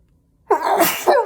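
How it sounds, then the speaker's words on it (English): One sharp, close sneeze after a moment of silence, bursting out loudly and then tapering off. "Sorry, sneezing."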